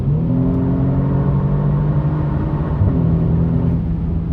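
2022 Genesis G70 Launch Edition under full-throttle acceleration, a loud steady engine drone rising with revs from inside the cabin, with a brief exhaust pop near the end, no talk.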